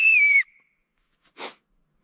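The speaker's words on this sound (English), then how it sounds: "It's a help me whistle." A help-me emergency whistle blown once in a short, loud, steady shrill tone lasting under half a second, followed by a brief faint puff of breath near the end; no talking.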